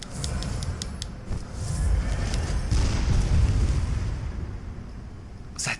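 A bolt-firing weapon in the Bloodborne: The Old Hunters video game lets off a rolling barrage of heavy booming blasts that swell and blend into a continuous rumble over several seconds, with no talk.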